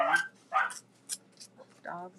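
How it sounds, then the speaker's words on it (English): A dog barks in a few short, sharp bursts with gaps between them, fairly faint and somewhat distant in a quiet indoor setting. "Dog's barking."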